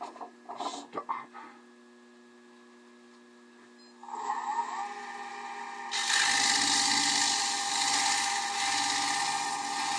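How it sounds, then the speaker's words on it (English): Coarse 120-grit sandpaper rubbed by hand against a workpiece's sharp corners, a steady broadband scratching that starts after a few scattered knocks and grows louder and denser in the final seconds, with no talking. "And I could just like grab some coarse sandpaper, maybe. This is 120 grit."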